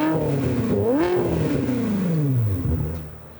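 A car engine revs hard through a Tubi exhaust at a collector car auction, one long loud rising and falling roar that fades toward the end, with no voices.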